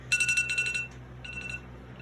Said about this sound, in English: Give me 1 second to kill my alarm here.